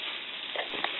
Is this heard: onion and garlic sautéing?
yes